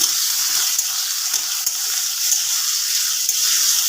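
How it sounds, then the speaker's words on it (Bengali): Potatoes frying in oil tempered with whole cumin and green chili: a steady, loud, hissing sizzle close by, nearly uniform throughout, with no talking. "এবার আমি এর মধ্যে দিয়ে দিচ্ছি আলু আলুটাকে আমি একটু ভেজে নিই"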